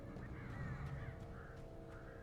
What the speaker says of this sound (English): the damn birds. More birds.